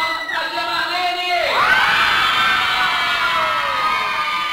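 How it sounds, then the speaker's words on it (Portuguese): At a daycare Christmas party, a lively crowd of children and parents erupts into loud, continuous cheering and high-pitched shouting for aunt Marlene, rising sharply after a short lead-in and holding steady. "Aplausos para a tia Marlene!"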